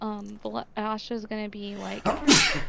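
One sharp sneeze bursts out right after a few words of speech from players in an online Dungeons & Dragons session.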